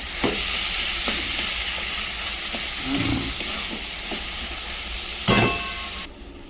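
A pan of banana flower curry (mochar ghonto) with boiled chickpeas sizzles steadily while a spatula stirs and mashes it, scraping and knocking against the pan in irregular strokes, close and fairly loud.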